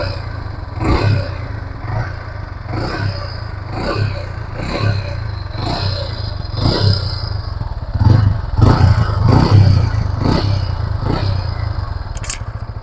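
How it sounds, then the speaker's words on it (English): Yamaha XSR 155 motorcycle exhaust being revved gently while new and still running in, a close engine note rising and falling over repeated moderate blips, with some rattling clatter and no talking. "All right, now let's hear the exhaust note. Not going to rev it too hard,"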